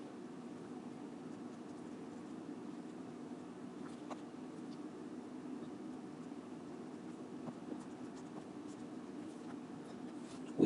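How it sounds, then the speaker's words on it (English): A pen or marker writing out an equation during a physics lesson, heard as faint, steady scratching under a continuous low room hum, with a few small taps and no talk. "And so we'll go ahead and write"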